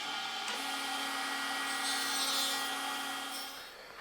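A saw makes a shoulder cut in a wooden workpiece for a coffee table, giving a steady close whirring buzz with a constant tone that lasts a few seconds and then eases off, with no talking.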